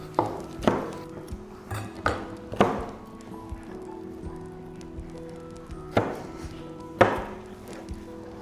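Knife chopping food on a cutting board, likely avocado, with a few sharp irregular knocks spaced by pauses, near and clear, under a faint background hum.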